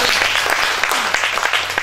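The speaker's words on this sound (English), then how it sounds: "Let's give a mighty clap of praise for us." A burst of loud, dense clapping from a church congregation, steady and sustained throughout with no break.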